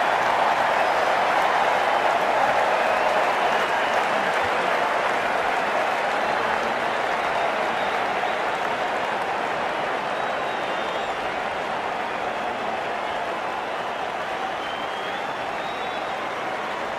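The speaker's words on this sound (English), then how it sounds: "The crowd on their feet." Cricket crowd in a Pakistan versus South Africa one-day international video game, applauding and cheering loudly and continuously, a dense wash of clapping that holds steady and fades slightly toward the end.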